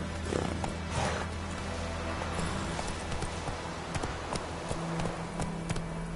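Horse hooves galloping in The Witcher video game, a steady rapid clip-clop of repeated thuds over a constant game-world background.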